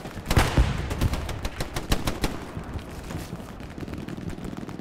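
Gunfire in the game Hell Let Loose rings out as a burst of rapid, loud close shots, then continues as sparser distant cracks and a low rumbling battlefield background.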